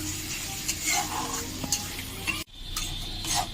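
Cumin powder and spices sautéing for ghugni, a Bengali street-fair pea curry, with a steady close sizzle and frying hiss, occasional stirring scrapes and a brief sharp pause near the end before the sizzling resumes.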